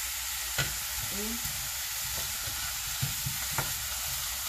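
Oxtail frying in oil in a pan, a steady soft sizzle running throughout with a few light clicks and utensil taps scattered over it, close and moderately quiet.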